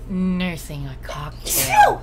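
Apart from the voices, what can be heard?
sneeze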